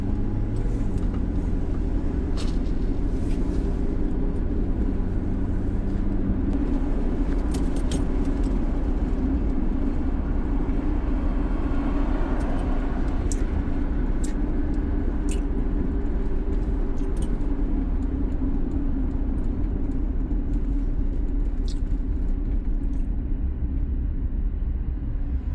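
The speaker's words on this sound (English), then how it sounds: "Chevy truck." A classic Chevy truck drives on the road, its engine and road noise forming a loud, steady low rumble that continues without a break.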